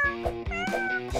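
A kitten meows in a few short, tonal calls over a steady harmonic backdrop, likely toy or game music, at moderate volume with no speech.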